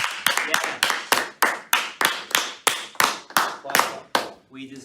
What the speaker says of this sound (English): Let's give the men a round of applause